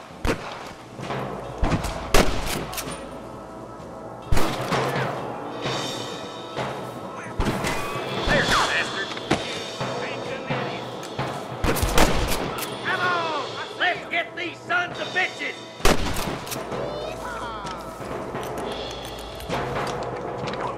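Gunfire from a shootout with rustlers in Red Dead Redemption at Pikes Basin, with sharp shots and crashes scattered irregularly over continuous game ambience and voices.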